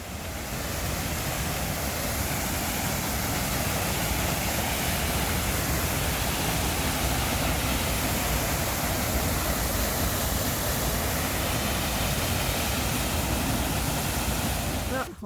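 A powerful waterfall in Yellowstone roars loudly and steadily, a dense broadband rush of falling water that fills the whole scene without any break.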